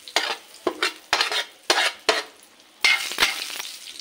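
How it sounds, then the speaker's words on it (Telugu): Fish fries Telangana style in hot oil with fenugreek seeds, a close, bright sizzle broken by repeated bursts of stirring and scraping against the pan, with no voices. "సో ఇక్కడైతే ఇంకొక వాయి ఫిష్ ఫ్రై అవుతున్నాయి."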